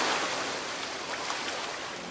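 Ocean ambience loop from Minecraft, cut from the game: a continuous wash of surf and rolling waves, steady and moderately loud throughout with no voices.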